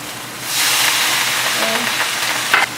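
Onion and shallot hit a hot pan with soy sauce, bursting into a loud sudden sizzle that holds as a bright steady hiss with light crackles and a stirring clink near the end.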